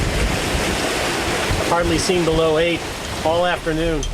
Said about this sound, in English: we got these waves we're surfing down that are just like the perfect frequency